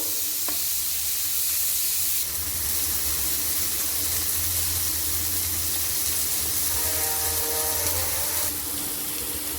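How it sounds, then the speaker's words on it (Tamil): Tomatoes sizzle steadily as they are sautéed in a pan for a country rooster curry, a continuous close frying hiss with occasional stirring and a faint hum partway through. "தக்காளி நல்லா மசிகிற அளவுக்கு நல்லா வதக்கிக்கிடுவோம்"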